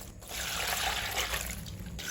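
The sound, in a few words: water poured over red spinach to soak it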